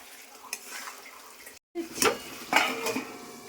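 Spice paste sautés in oil with a soft sizzle, broken by spoon scrapes and clanks against the pan and a brief silent cut partway through, close and moderately quiet.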